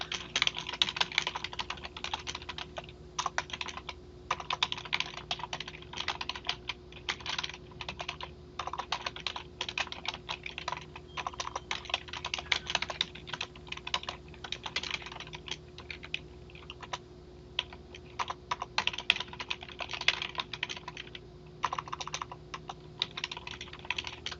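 Steady, continuous typing of a paragraph on a computer keyboard, with dense, close key clicks at an even pace throughout and no voices.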